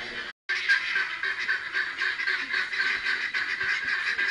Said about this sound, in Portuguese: A hora que os pássaros estão se ajeitando, meu gorjear dos pássaros, muito bonito.